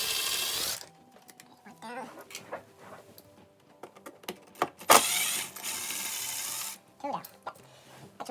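Old vertical blind mounting supports are pried and unscrewed from a window head rail, making close clicking, ratcheting and scraping plastic-and-metal sounds in irregular bursts, with a voice speaking intermittently.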